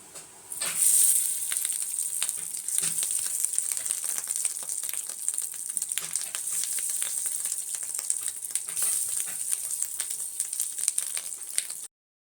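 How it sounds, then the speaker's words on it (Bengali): Fish roe coated in salt and turmeric frying in oil in a wok, a dense continuous sizzle with fine crackling and spatter, loud and close for about twelve seconds, with no voices. "মাছের যে ডিমটা আমরা নুন হলুদ মাখিয়ে রেখে দিয়েছিলাম সেই ডিমটাকে এবার ভেজে নেবো"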